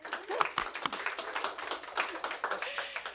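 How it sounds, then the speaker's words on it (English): Scattered applause from an audience at a county community grant award presentation, a dense patter of clapping hands that stays fairly close and moderately loud throughout. "she deserves a round of applause for that"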